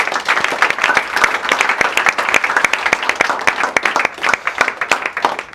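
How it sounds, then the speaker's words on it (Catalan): Audience applause for a person being honoured at an event of Escola Ciutat Jardí and CE Atlètic Lleida: dense, steady clapping from a crowd that holds for several seconds without letting up. "així que un fort aplaudiment per ell."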